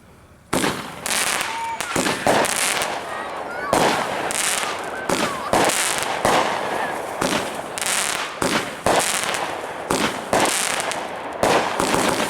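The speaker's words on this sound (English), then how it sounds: "here we go with 10-shot cherry bomber" A Winda 10-shot Cherry Bomber firework cake, 200 gram, fires a rapid string of loud cracking bursts and booms, close by, with brief gaps between shots and a faint voice at times.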